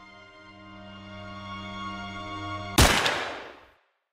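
A single gunshot from a Stasi officer's gun at the East German border bursts out loud and sharp over a sustained low droning tone, then decays quickly into silence.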